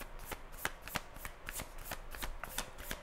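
Tarot cards being shuffled by hand for a reading, a steady run of soft riffling flicks and slaps, close and alone with no voices.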